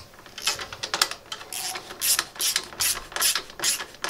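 Ratchet wrench clicking in quick bursts while tightening the silencer fittings on a Royal Enfield 650 twin motorcycle, close and crisp with short pauses between runs of rapid pawl clicks.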